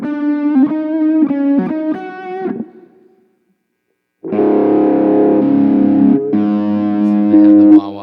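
Electric guitar through a Kemper profiler with a choked, underwater-sounding modulation effect. A few wobbling plucked notes are followed by a short silence, then sustained warbling chords, close and loud.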